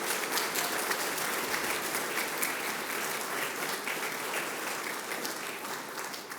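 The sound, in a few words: audience applause for the artists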